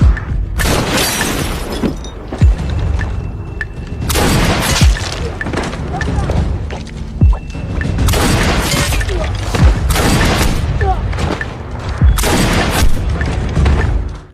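Sniper gunfire and explosions from a war film crack out in repeated loud bursts with a shattering edge, several heavy blasts spaced a couple of seconds apart over a constant rumbling battle din.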